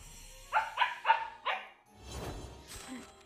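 A puppy barks four quick times at close range, sharp and bright, followed by softer rustling and a faint high yip.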